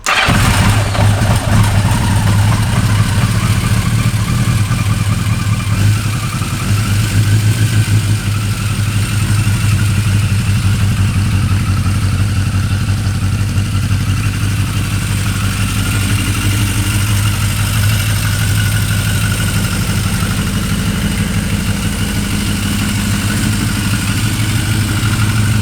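A 1982 Yamaha Maxim 650 motorcycle engine running steadily nearby at a loud, constant idle with a deep throb, no voices.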